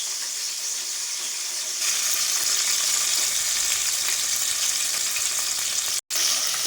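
Finely chopped onion and green chillies fry for a fish curry, giving a dense, loud, continuous sizzle that swells after a couple of seconds and cuts out briefly near the end.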